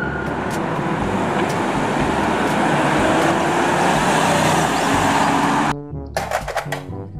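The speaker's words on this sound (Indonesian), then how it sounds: "Mobil patroli polisi." Police patrol car driving by with a steady roar of engine and road noise for several seconds, dropping away to scattered short knocks and clicks at the end.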